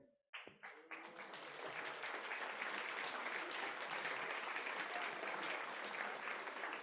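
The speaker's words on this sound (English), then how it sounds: "I really want the young people to stand up and applaud themselves." An audience of young people at a business leaders forum breaks into applause, a few scattered claps quickly swelling into a dense, sustained ovation that stays full and even.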